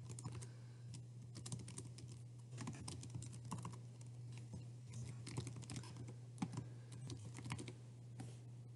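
Rapid, irregular typing on a computer keyboard, close and quiet, with a faint steady hum underneath.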